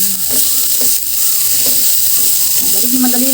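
Vegetables stir-frying in a little oil give a steady, close sizzle throughout, with the occasional scrape of stirring and a voice speaking briefly over it.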